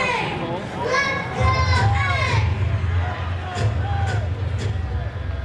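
At an A's baseball game in Sacramento, a stadium crowd chants the team's signature chant, led by a little kid on the Jumbotron; a loud, dense chorus of voices with a voice rising through it.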